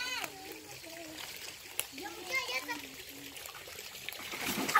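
People splashing and bathing in a river after work, with water sloshing and trickling throughout while children and adults talk and shout over it.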